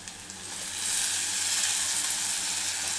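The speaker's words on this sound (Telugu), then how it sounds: "వేగిన తర్వాత ఇప్పుడు మనము ముందే కడుక్కున్న ఈ ఎర్రపప్పు ఉంది కదా ఈ పప్పును ఇందులో వేసుకుందాం" Washed red lentils dropped into a hot tempering, the sizzle surging louder about a second in and then holding steady and close.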